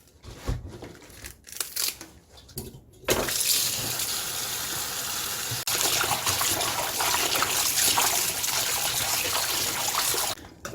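Napa cabbage is washed under a running kitchen tap: a strong, steady stream of water splashes and gushes close by for most of the clip, after a few seconds of quieter handling noises.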